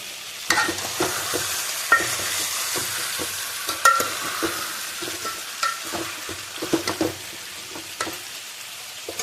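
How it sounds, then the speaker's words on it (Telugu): Fried fish sizzles in a hot pan as tamarind juice goes in, a steady broadband crackle broken by sharp clicks and scrapes of stirring at an uneven pace, close and alone without voices. "ఫిష్ కూడా ఫ్రై అయిపోయింది ఇది కూడా ఇది ఇప్పుడు దీంట్లో చింతపులుసు పోసుకోవాలి"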